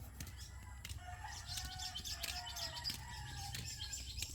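Chicken flapping its wings and clucking close by, with fluttery bursts and short chirpy calls over a steady low rumble of background noise.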